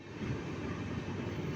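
A train rumbles past steadily, hauled by a powerful locomotive in India, with a dense continuous roar and rolling noise, close and loud, with no voices.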